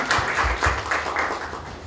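Audience applause welcoming a guest professor at a Women's Day celebration, a moderate, steady patter of clapping from a crowd with a few sharper low thumps, continuing for under two seconds.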